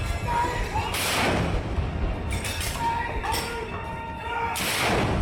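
A cannon loaded with gunpowder only and no shell fires at a ceremonial salute: several heavy booms follow one another and rumble away into the distance, with voices faintly mixed in.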